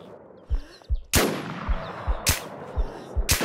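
Gunfire in the survival shooter game Infestation The New Z: scattered single shots thump at an irregular pace, broken by a few much louder, sharp cracks, with no talk over them.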